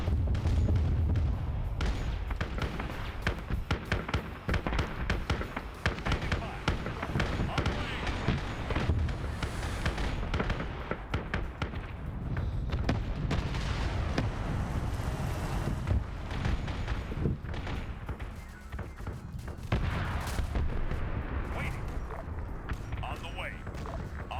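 Booming cannon artillery fire from a Warhammer 40K battle scenario with Steel Legion and Krieg troops against Orks, dense and continuous with wind-like rumble and repeated blasts throughout, while someone talks over the din.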